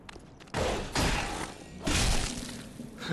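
Club hit effect in the Dark Souls video game, a few heavy crashing impacts with shattering, whooshing bursts, loud and close.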